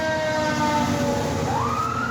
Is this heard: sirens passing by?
yes